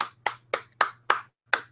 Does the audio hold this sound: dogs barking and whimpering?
no